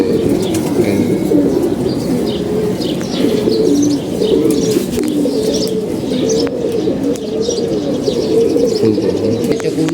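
Pigeons coo steadily and repeatedly at close range, with occasional chirps and wing flaps among a loud, continuous flock that includes a medium-sized racing pigeon.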